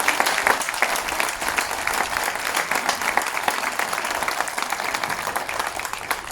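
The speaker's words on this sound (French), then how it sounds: "Et les mecs, vous les applaudissez très très fort." Loud, steady applause and clapping from a crowd at a bikers' blessing, cheering women motorcyclists, a dense wash of hands sustained throughout.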